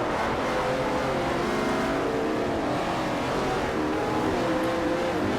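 A Ferrari race car in Forza Motorsport 4 launches off the line in a GT multi-class event, its engine roaring steadily under a dense wash of other cars revving nearby, with no voices.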